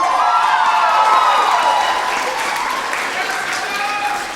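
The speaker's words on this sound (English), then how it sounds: "So massive round of applause for Hayden and Astros." Applause for student union election candidates at a 2016 results announcement, a sustained wash of clapping from a crowd lasting the whole stretch, with a voice talking over it.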